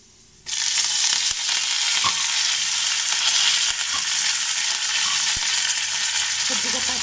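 Curry leaves and urad dal drop into hot oil and burst into a loud, steady sizzle and crackle that starts abruptly and keeps going, with a few sharp pops and light stirring clinks.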